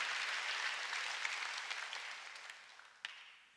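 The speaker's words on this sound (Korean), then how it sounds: "박수로 하나님께 영광을 돌리라 이게요." A congregation clapping during a Sunday church worship service, a dense wash of applause that starts full and gradually fades, with a few sharper claps standing out near the end.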